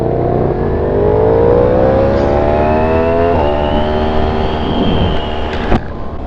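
Road traffic passes early in the morning, with a close vehicle engine rising steadily in pitch as it accelerates past, followed by a sharp brief knock near the end, and no talk over it.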